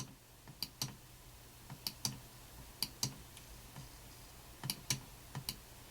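An Apple Bluetooth wireless Mighty Mouse clicked repeatedly, sharp quiet clicks in an irregular rhythm, some in quick pairs, close by in a quiet room.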